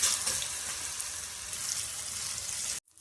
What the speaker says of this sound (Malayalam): ഇനി പഴം വറുത്തെടുക്കുക